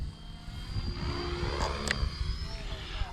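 Blade 330s RC helicopter during a 3D flight session, its rotor whine and buzzing motor carrying on continuously at moderate distance, rising and falling slightly, with a faint voice underneath.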